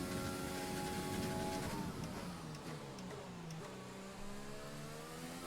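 A Formula One car engine in F1 2020 revs and winds down through falling pitch sweeps as it downshifts into a turn, a fairly faint, continuous whine with no talk.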